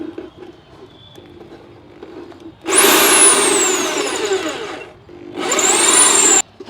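An electric drill whirs loudly in two bursts, boring a hole; the motor pitch winds up and sags, with quiet workshop noise in between.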